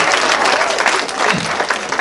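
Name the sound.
adults in the audience applauding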